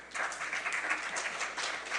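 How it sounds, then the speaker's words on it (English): An audience at the 2019 Jeju Forum applauds a guest being introduced, producing a dense, steady wash of many hands clapping at an even level throughout, with no voices. "Give a big applause to Joseph Detrani."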